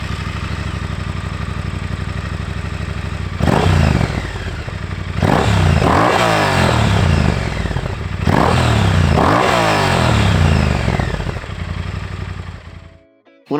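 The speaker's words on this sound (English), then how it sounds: "I finally upgraded the exhaust system on my 2019 Triumph Speed Twin 1200" A 2019 Triumph Speed Twin 1200 fitted with Akrapovic slip-on exhausts idles with a deep burble, then snaps through a series of loud, rising revs that fall back, close up and alone until the engine cuts off at the end.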